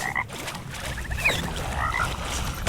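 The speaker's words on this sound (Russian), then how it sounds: "Что за лягушки?" Frogs croak steadily in the video game Mortal Shell, a dense, continuous chorus of rasping calls over a low background rumble, with no voices heard.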